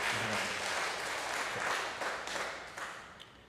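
Scattered audience applause after a song at a Sunday worship service, a modest crowd clapping steadily at moderate distance for a few seconds, then thinning and fading out.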